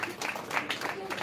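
Audience at a Vinayaka Chavithi auction gathering claps in a dense burst of hand claps, fairly close and continuous, with some voices mixed in.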